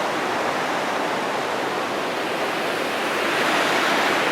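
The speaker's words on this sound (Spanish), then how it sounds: "Estamos al lado de un río." A river runs beside a remote campsite, its rushing water forming a loud, dense, unbroken roar that holds steady throughout with no voices.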